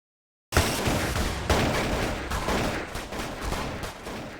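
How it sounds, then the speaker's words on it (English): Gunfire from a gunfight outside a pizzeria erupts after a moment of silence, a dense, continuous volley of shots with sharp bursts recurring throughout, loud and close, with no voices. "a camera outside the building caught a portion of the gunfight"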